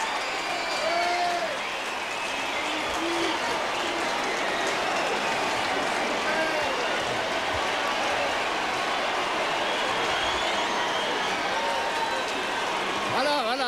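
A large outdoor crowd cheers during a total solar eclipse: a sustained, distant roar of many voices with scattered whistles and shouts that stays steady throughout.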